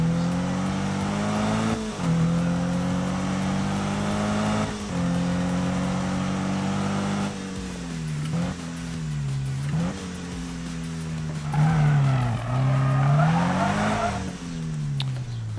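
Race car engines in Need for Speed rev hard and shift through the gears, the pitch climbing and dropping in repeated sweeps, with tire squeals and skidding near the end, loud and close without speech.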